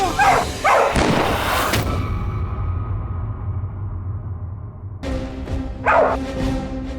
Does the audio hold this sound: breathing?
no